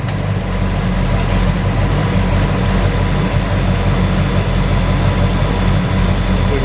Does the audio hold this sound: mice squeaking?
no